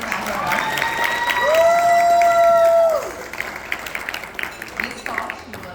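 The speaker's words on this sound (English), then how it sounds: "Please clap her up." At a school senior breakfast, an audience applauds a speaker, with a long shrill whoop rising over the clapping before the noise drops to thinner, scattered claps and cheers.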